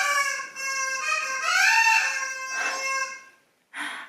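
A pet's squeaky rubber chicken toy lets out a long, loud, wavering honk that rises and falls like a rooster crow, followed by a pause and one short sharp squeak, close and alone.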